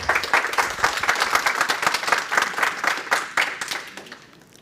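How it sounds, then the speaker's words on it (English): An audience at a talk on machine learning claps to welcome a speaker, a lively burst of many hands that swells, holds and then fades out toward the end. "Can we give her a clap and welcome her?"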